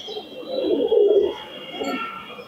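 Andhra pigeons coo softly up close, two low, rolling coos with a short pause between them, over a faint steady background hum.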